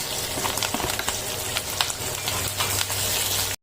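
Two large chopped onions sizzling in a pan with softened capsicum, a steady close crackling fry with faint stirring, running continuously before cutting off abruptly at the end.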